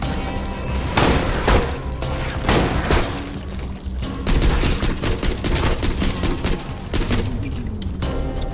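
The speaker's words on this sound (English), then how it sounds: "Grenade!" Heavy combat in the shooter Borderlands 2, with a dense, loud barrage of rapid gunfire and booming blasts, including a grenade explosion, continuing without pause throughout.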